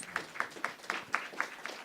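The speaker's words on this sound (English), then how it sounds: "yes, round of applause" At a winter solstice celebration, a small audience gives a short, fairly quiet round of applause, with a handful of evenly spaced claps in a steady rhythm.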